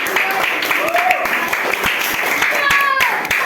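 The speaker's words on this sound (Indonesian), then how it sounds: "kita berikan tepuk tangan" A primary school classroom of children applauds a classmate's presentation, scattered claps mixed with chatter and young voices talking over them.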